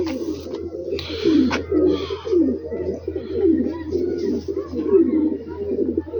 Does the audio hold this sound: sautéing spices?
no